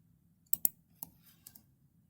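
A few soft, quick computer mouse clicks, two close together and then two or three more spaced out, on a quiet background.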